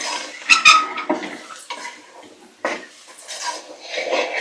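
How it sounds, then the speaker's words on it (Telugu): Chopped ridge gourd pieces tip into a hot pan of fried onion and get stirred, with a spoon scraping and clinking against the metal in uneven bursts, close and fairly loud. "బీరకాయ ముక్కలు వేసుకుందాం. సార్ కలుపుకుందాం."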